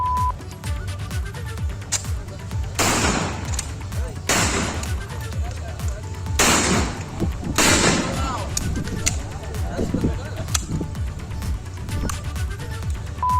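Gunfire at a paper mill before a flag-hoisting ceremony: several sharp, loud bangs spaced a second or two apart, heard under continuous talking.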